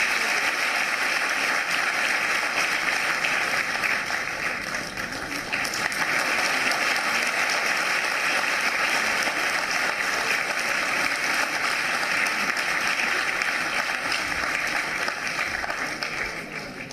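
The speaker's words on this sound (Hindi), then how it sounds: "जोरदार तालियां।" Loud, sustained applause fills an auditorium at a government skills event in Bhopal as the Chief Minister is welcomed. Dense clapping runs unbroken and near-constant for over fifteen seconds.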